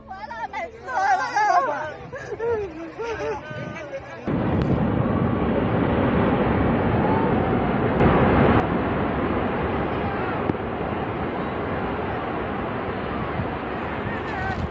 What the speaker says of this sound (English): the structure gave way, crumbling in a thunderous slide that shook the trail below